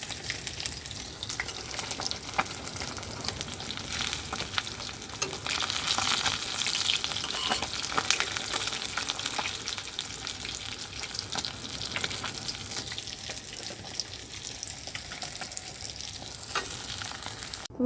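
Fish fry in hot oil in a pan, giving a steady, loud crackling sizzle with occasional stirring scrapes throughout, and no talking.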